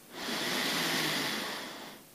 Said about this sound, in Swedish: Och du andas in.